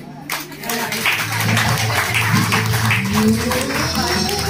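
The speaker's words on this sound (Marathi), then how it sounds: "टाळ्या वाजवून आणि कौतुक करायचं आहे" Audience applause at an award ceremony for a drawing and essay competition, a steady wash of many hands clapping over a low murmur, continuous and fairly loud for several seconds.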